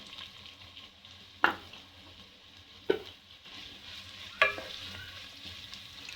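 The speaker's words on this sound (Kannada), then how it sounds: "ಈರುಳ್ಳಿ ಚೆನ್ನಾಗಿ ಫ್ರೈ ಆಗಲಿ." Onions frying in a pan, a low gentle sizzle broken by three distinct clinks and scrapes of a spatula at regular intervals, quiet and close with no talking.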